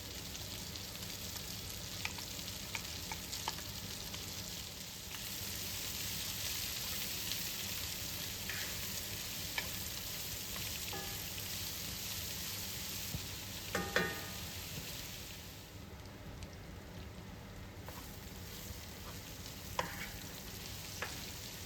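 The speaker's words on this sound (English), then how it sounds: "Once it starts sizzling, add sliced onions and garlic and sauté for another 3 minutes" Sliced onions and garlic sautéing in a pan for a chickpea dish, a steady close sizzle and crackle of frying with occasional stirring clinks, continuing without talk.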